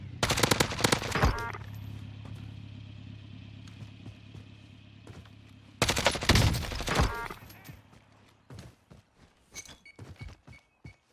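Gunfire in the video game Call of Duty Warzone, with loud bursts of rapid automatic fire at the start and around six seconds, then scattered single shots and distant pops over a low engine-like hum.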